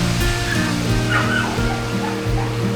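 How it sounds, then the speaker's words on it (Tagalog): Strong wind during Typhoon Crising roars steadily around a house balcony, a dense, constant rushing noise throughout with low rumbling gusts and no clear talk. "Malakas naman yung hangin."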